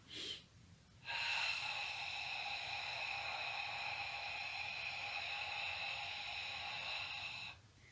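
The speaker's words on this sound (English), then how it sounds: "as we breathe out, we're going to make the sound ha." One long, breathy "ha" exhale pushed from the throat in yogic breathing, a steady airy rush lasting several seconds, heard alone and close.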